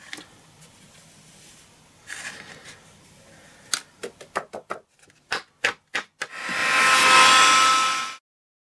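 Heat embossing tool melting embossing powder over stamped Versamark ink: a run of sharp, separate taps and clicks, then a loud steady blowing hiss for about a second and a half that cuts off abruptly.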